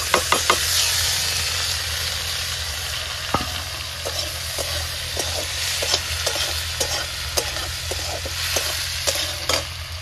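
Chopped potato frying in a pan for a banana flower dish, a continuous sizzle broken by repeated sharp clacks and scrapes of a spatula stirring against the pan.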